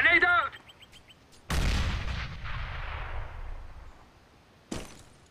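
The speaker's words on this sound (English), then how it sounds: "Grenade out!" A grenade explodes in CS:GO, a sudden loud blast with a long decaying rumble, followed a few seconds later by a second sharp burst; a short tonal chirp precedes it.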